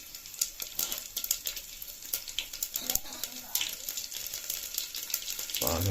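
Mustard seeds, cumin and garlic crackle and sizzle in hot oil, a dense crackling hiss with sharp pops scattered throughout, steady and close, ending in a louder clatter.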